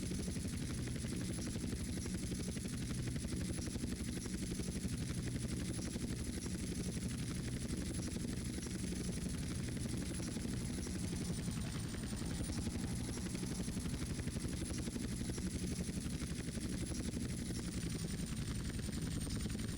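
Steady low rotor drone of a helicopter flying in GTA San Andreas, loud and continuous throughout with a constant engine hum and no breaks.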